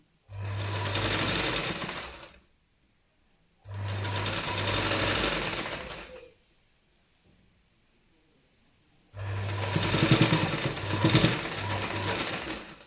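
Sewing machine stitching fabric piping for a tailored garment, running in three bursts of steady whirring a few seconds each, separated by short pauses of near-silence, with no talking.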